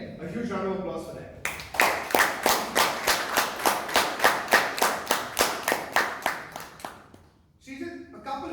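A Toastmasters club meeting held online, where individual participants clap a steady, even rhythm of about twenty loud claps close to the microphone. Talk comes before and after the clapping.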